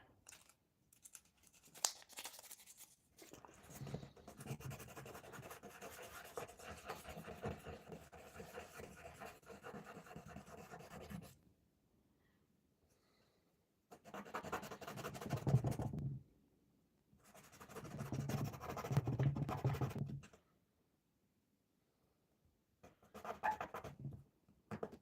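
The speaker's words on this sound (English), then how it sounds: "now we've taken it off, we can actually really go ham and really sand this down" Sanding a plastic part from a Trumpeter PLA Navy Type 054A frigate model kit by hand: long stretches of steady abrasive scratching, then short separate bursts of rubbing with quiet gaps between, close and fairly faint.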